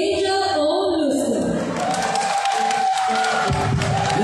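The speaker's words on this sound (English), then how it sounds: "Let's give her one more applause." An audience cheers and applauds an award recipient at an honors ceremony, a loud crowd roar with shouting voices and clapping throughout.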